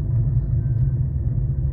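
Ford Focus 1.6 HDi diesel car engine running with a steady, loud low rumble, heard close and continuous with no voices over it.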